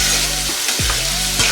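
Brinjal pieces fry steadily in a generous amount of hot oil, a continuous close sizzle broken by a few quick stirring scrapes, with no one talking.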